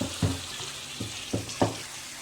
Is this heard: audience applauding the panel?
no